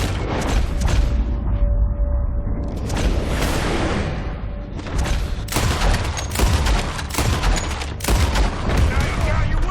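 Dense, loud gunfire from the video game Red Dead Redemption 2 during a chaotic fight: rapid overlapping shots and booms almost without pause, with a voice shouting now and then.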